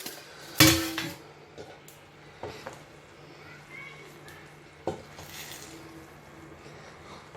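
A metal lid clanks loudly off a pot of Nigerian party jollof rice, followed by softer clinks and utensil scrapes as the rice is checked, with a faint background hum.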